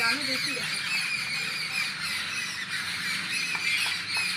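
Several birds squawk loudly and repeatedly while mobbing an owl, harsh calls overlapping close by, with people talking underneath throughout.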